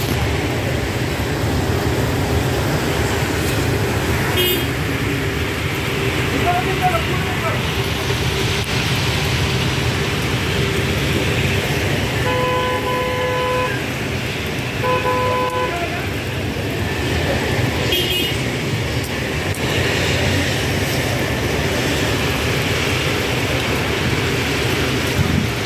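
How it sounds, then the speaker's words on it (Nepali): Heavy rain falling in Doha, Qatar, a constant loud hiss across the scene with a few short car horn toots in the background. "आज दहा कतारमा एकदम भारी वर्षा हुँदैछ हैन।"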